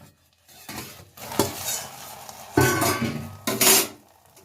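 A metal pot lid lifted off a pot of steamed rice cake, giving several clattering clinks and scrapes with soft hissing between them, close by.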